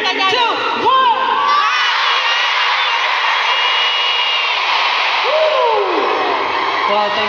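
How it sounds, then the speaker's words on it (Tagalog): A large crowd cheers and shouts together in unison, loud and close, with rising whoops and excited children's voices layered through a sustained roar. "sumigaw ng happy anniversary in 3, 2, 1!"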